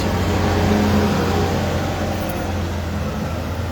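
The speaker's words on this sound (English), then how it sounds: "a number of trucks are being let out at a time, and then it stops again" Trucks rolling out through Dublin Port amid halted traffic, a steady loud rumble of heavy engines and road noise close by with a low droning hum throughout.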